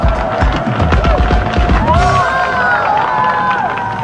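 A TV game show studio audience cheers and applauds three young contestants, a loud burst of crowd noise and clapping with whoops and excited voices, settling into babble with a host-like voice speaking over it.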